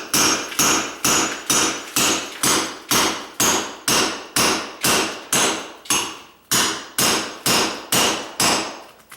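A claw hammer strikes the concrete sub base of a tile counter near a cabinet edge. About eighteen loud, close, evenly spaced blows ring out in a steady rhythm, with no talking.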